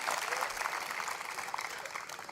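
An audience claps steadily and warmly for a couple of seconds at a political gathering to welcome Yogendra Yadav, a dense, even wash of applause with no single voice standing out.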